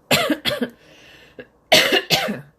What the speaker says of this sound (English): Lingering cough.